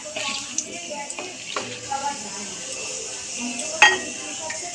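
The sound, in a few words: stirring cardamom, cinnamon and bay leaves frying in pan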